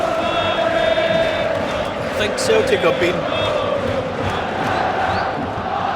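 At a Rangers v Celtic Old Firm derby, a large football crowd roars and chants at a distance, a dense, sustained wash of noise under someone talking close by.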